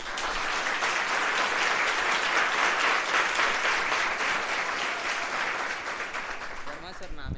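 An audience applauds a teacher in a dense, sustained burst of clapping that stays loud and even before tapering slightly at the end.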